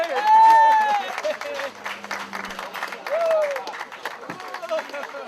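An appreciative crowd applauds the podium celebration at a Lotus Cup Europe race at Magny-Cours, a broad wash of clapping running beneath a voice that talks over most of it.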